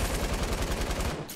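Rapid bursts of video game gunfire in Fortnite rattle in a fast, even rhythm for about a second, then cut off abruptly.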